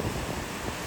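Gusty wind buffets the microphone on a rocky seashore while people fish from the rocks, a steady broadband roar with low rumbling gusts throughout and no voices.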